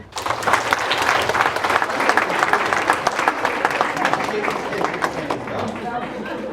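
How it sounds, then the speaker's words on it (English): Sustained applause from an audience for first grade students receiving academic excellence awards at a school ceremony, steady and fairly loud, with some chatter and movement underneath. "we're going to give them a round of applause"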